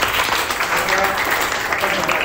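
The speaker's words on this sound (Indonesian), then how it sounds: "mari kita berikan aplaus kepada semua" A presentation audience breaks into steady, dense applause, many hands clapping continuously and loudly throughout.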